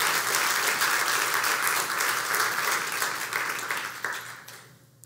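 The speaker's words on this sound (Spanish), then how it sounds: "Si le va a dar un aplauso al Señor, déselo fuerte." A church congregation bursts into loud, sustained applause and cheering, a dense wash of clapping that holds steady before thinning and fading out near the end.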